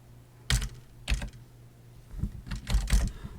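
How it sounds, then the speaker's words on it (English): Keys clatter on a computer keyboard at close range, with a few separate taps and then a quicker run of keystrokes, fairly soft against a steady low hum. "type in run and then hit enter again"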